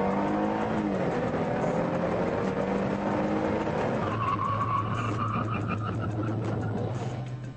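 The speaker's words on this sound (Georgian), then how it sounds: "ეხლა ნახოთ მუხრუჩი." A car brakes hard from about 100 km/h during a brake test, its tires skidding in a loud, continuous screech over engine noise that fades as the car comes to a stop.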